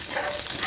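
Hot oil spatters and sizzles steadily in a pan during frying, a close, continuous crackling hiss with no voices.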